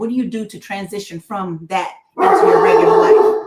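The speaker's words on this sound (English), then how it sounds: "Sorry, that's my dog." A dog barks and yips in a loud burst right after a person's speech ends, the noisy barking overlapping the room briefly.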